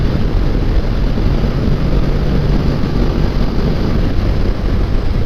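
A 2012 Honda NC700X DCT motorcycle engine held at full throttle, a loud, steady drone blended with heavy wind rush, continuous and close with no talking.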